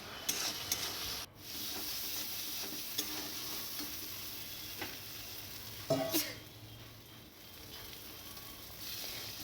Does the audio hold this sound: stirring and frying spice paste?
yes